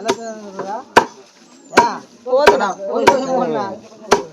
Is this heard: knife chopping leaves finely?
yes